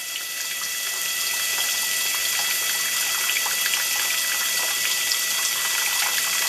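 Tap water runs steadily into a sink basin being filled to about three gallons, a continuous even splashing rush that holds at one level throughout.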